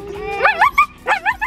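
A Siberian husky whines and cries in a tantrum, a close, loud series of wavering, yelping whimpers rising and falling in two quick bursts.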